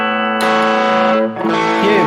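A guitar through a Harley Benton overdrive pedal on an amp's clean channel rings out with buzzy solid-state distortion, a sustained chord that briefly dips and then restrikes, loud and alone.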